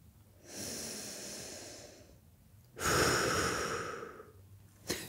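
Two long, slow exhales come close to the mic during a pigeon hip stretch, each a soft breathy rush followed by a pause, with a brief sharp breath at the end.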